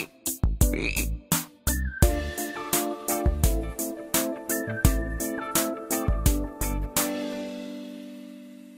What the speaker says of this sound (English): A frog is on the log.